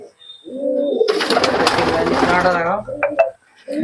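Imported pigeons coo close by in low phrases, then a loud, broad burst of flapping or scuffling swells over them, followed by short sharp clicks.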